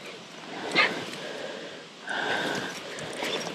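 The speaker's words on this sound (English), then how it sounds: "Wait, whose dog are you?" Dog on a hiking trail near Lake Placid, New York, giving a short snort followed by soft whimpering and snuffling sounds close by, faint against quiet outdoor background.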